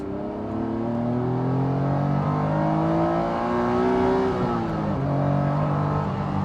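A Honda NSX-R sports car engine revs steadily, its pitch climbing over several seconds before dropping sharply as a gear changes, then building again, loud and close.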